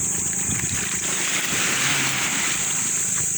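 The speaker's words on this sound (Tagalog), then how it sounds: "ang lakas ng alon ayun po ah, lakas ng alon" Strong ocean waves wash and surge near the shore, a continuous loud roar with wind noise and splashing and no talk.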